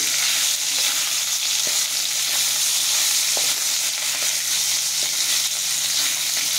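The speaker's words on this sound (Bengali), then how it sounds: "একবার একটু নাড়িয়ে দিই।" Fish frying in hot oil is stirred in the pan, producing a loud, unbroken sizzle up close, with faint clicks and scrapes of the utensil scattered through it.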